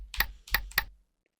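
A flashlight switch in an Unreal Engine 5 game gives three quick, crisp clicks in close succession, near and fairly loud, followed by silence.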